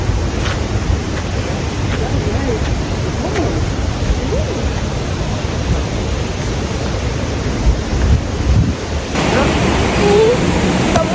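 A flowing river makes a constant broad rush, with wind buffeting the microphone and faint voices under the water noise.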